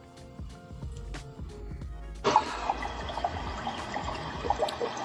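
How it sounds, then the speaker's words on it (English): Steady broadband ocean-shore wave white noise plays from a Divoom Minitoo speaker, switching on abruptly partway through after quieter clicks and rustling, then continuing as an even wash of surf. "For me, the sound of the ocean shore always puts me to sleep."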